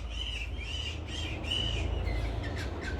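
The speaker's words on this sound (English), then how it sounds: "Birds are fighting." Several birds squawk and chirp in a backyard orchard near a star fruit tree and a Pinkerton avocado, harsh repeated calls in short bursts over a low steady rumble, moderately close, with no talking.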